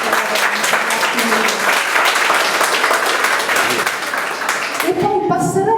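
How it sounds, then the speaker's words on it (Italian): A crowd at the presentation of a community diabetes info-point in Cervignano del Friuli gives loud, steady applause that tapers off as a voice begins speaking near the end. "possiamo fare un applauso alla dottoressa."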